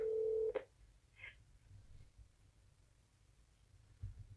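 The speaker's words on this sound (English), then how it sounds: "You dial your number, start making a call." A CaptionCall landline phone heard dialing: a short steady dial tone cuts off, followed by a couple of quick touch-tone beeps, then near silence with faint low room noise and a small bump at the end.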